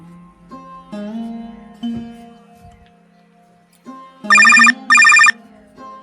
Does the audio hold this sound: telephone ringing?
yes